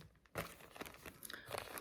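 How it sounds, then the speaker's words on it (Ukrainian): A packet of nail stickers is torn open by hand, giving soft, close crinkling and ripping of thin plastic in short bursts over a couple of seconds, fairly quiet. "щоб їх розкрити, бачите, треба розірвати пакетик"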